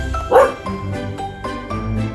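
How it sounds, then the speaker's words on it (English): A dog barks once, loud and close, over a cheerful children's music bed with a light jingle, and the music carries on after the bark. "This is a dog."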